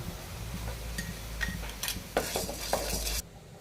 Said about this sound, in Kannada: ಬಾಣಲಿ ಬಿಸಿಯಾಗಿದೆ, ಕಡಲೆಬೇಳೆ ಹಾಕ್ಕೊಂಡು ಹೋಗ್ತೀನಿ.